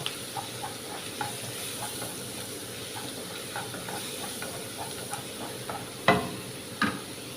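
Crushed ginger and garlic fry in a pan for squid roast, giving a soft continuous sizzle with light stirring scrapes and a couple of sharper clinks near the end.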